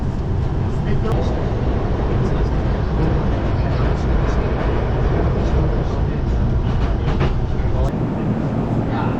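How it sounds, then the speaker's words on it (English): Interior of a Tokyo train heading into Shinjuku station: a steady, loud low rumble of wheels on rails fills the car throughout, with faint clicks and rattles and quiet voices underneath. "We made it on our first train ride."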